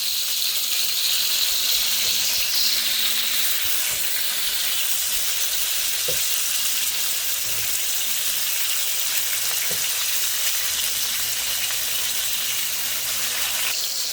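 Mushrooms frying in a very hot pot, a loud, steady, hissing sizzle that stays dense and continuous throughout, with a couple of faint clinks.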